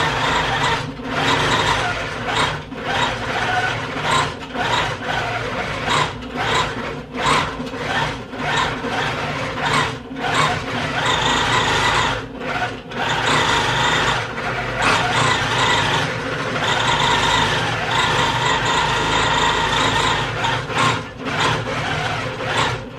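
Longarm quilting machine running a computerized stitch pattern on patchwork teddy bears, a steady mechanical whirring and rubbing drone with rhythmic pulses, close and continuous throughout with no talking.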